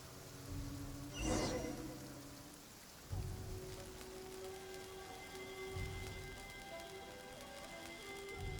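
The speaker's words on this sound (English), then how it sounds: "No more rain, no more lightning." Rain and thunder in the video game Genshin Impact: steady, close rainfall hiss with a few deep, rolling rumbles and soft tonal game music underneath, with no talk.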